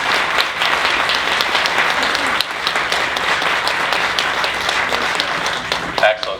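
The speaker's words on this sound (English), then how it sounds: "Let's give them a round of applause." A school groundbreaking crowd applauds students, loud sustained clapping from many people filling the whole stretch, with a brief murmur of voices near the end.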